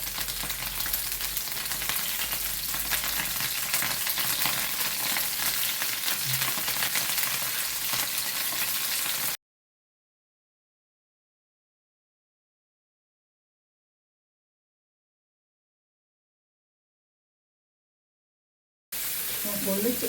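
Curry leaves sizzling in hot oil while fish fries, a loud continuous crackling hiss that cuts off abruptly into silence and returns briefly at the end.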